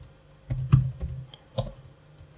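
A handful of quick, close keystrokes on a computer keyboard, sharp clicks in a short irregular burst with no voice.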